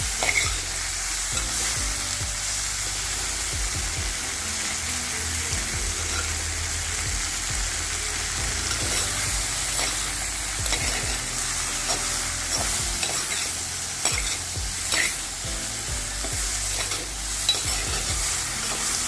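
Okra being stirred as it fries in a pan for a vendakka curry: a steady, continuous sizzle with frequent scraping and clattering of the spoon against the pan, close and alone without any voices.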